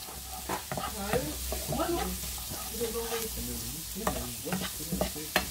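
Ingredients for homemade turkey escalope milanaise being stirred and mixed in a bowl, giving soft repeated scraping and stirring sounds with a few sharper clinks, close and fairly quiet under a steady low background hum.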